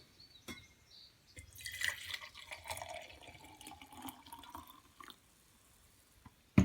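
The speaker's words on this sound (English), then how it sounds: "go ahead and pour it into your favorite coffee cup" Brewed coffee poured from a pot into a coffee cup, a steady trickling stream of liquid lasting a few seconds, fairly close and quiet, ending with a soft clink, no talking.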